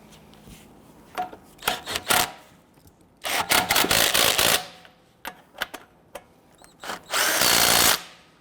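A power tool runs lug nuts onto a 2007-2014 Cadillac Escalade wheel, giving several short whirring bursts of varying length separated by pauses, close and loud, with a longer run near the end.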